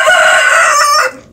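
A rooster crows once, loud and close, in a chicken yard where hens are being fed pumpkin seeds; the long call ends abruptly with no talk over it.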